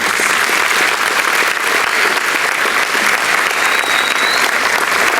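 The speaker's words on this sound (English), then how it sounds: "Please give our students a round of applause for their accomplishments." A banquet crowd claps loudly and continuously for students, a dense, even wash of applause sustained throughout.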